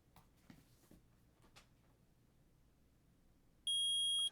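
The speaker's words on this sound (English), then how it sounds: "I permit the use of the metal detector." A metal detector in the Phoenix Wright: Ace Attorney video game sounds one loud, steady electronic beep near the end, after quiet shuffling and a few faint taps.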